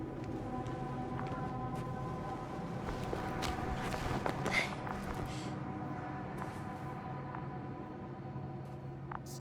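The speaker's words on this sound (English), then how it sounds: "I have a lead. His footsteps." Footsteps in the video game The Invincible fall in a steady walking rhythm over a humming ambient background, fairly soft and continuing throughout without speech.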